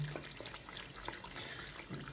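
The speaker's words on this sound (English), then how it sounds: "run the water and basically do the same thing under the running water" Tap water runs steadily over a makeup brush cleaning mat in a sink, a soft, close splashing and trickling with small drips throughout.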